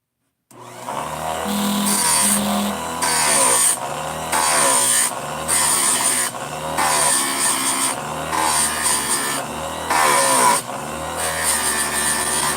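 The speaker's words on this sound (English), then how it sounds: "It's a whole lot less work to hit it with the grinder first" A power grinder works on metal with steady, loud bursts of whining abrasion that start and stop repeatedly, each pass lasting a second or two, with no voices over it.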